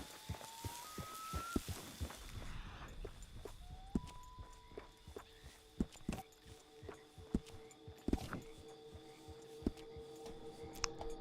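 Horse hooves clip-clop at a walking pace in a Western video game, a steady run of soft, fairly close hoof thuds over quiet ambient outdoor noise.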